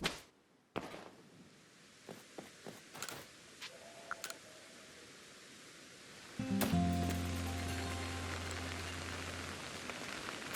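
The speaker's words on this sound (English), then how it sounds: "That's the sound of rain, at least." Steady rain falls in the game Pokémon Legends: Arceus during a thunderstorm, a soft hiss joined by a sharp crackle and clicks, then a louder, denser wash of rain with a low hum continuing to the end.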